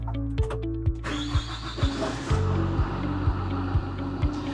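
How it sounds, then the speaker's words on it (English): A dump truck engine cranks in a steady rhythmic pulse that keeps going as the motor catches and rumbles, loud and close with no talking. "So we'll come back to the cab, crank the truck"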